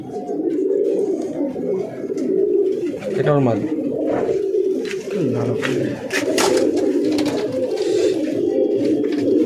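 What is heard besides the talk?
racing pigeons cooing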